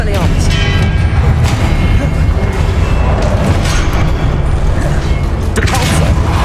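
The Expelliarmus spell is cast in the video game Hogwarts Legacy amid loud, dense combat noise, with booming thuds and crashing effects rolling continuously at close range.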